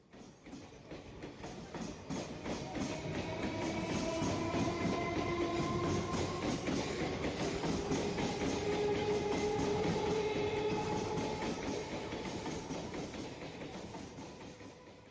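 Train running on rails, a steady rolling rumble with clickety-clack wheel rhythm that swells in and fades slightly at the end, heard alone without voices.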